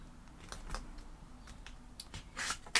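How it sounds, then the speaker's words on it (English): Scissors cut through paper in a few short, quiet snips and crisp rustles, spaced irregularly, with a louder rustle at the end. "So I'm going to just cut"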